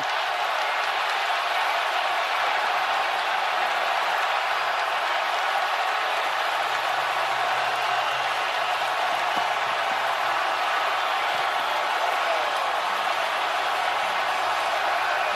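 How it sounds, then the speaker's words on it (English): A packed Milwaukee arena crowd roars and cheers in celebration as the Bucks close out the 2021 NBA Finals, a dense, sustained wall of cheering and applause that holds steady throughout. "This crowd has erupted."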